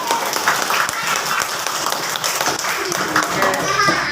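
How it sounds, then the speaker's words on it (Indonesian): Children clapping in a classroom lesson, a dense steady patter of small hands lasting throughout, with young voices chattering underneath. "tepuk tangannya"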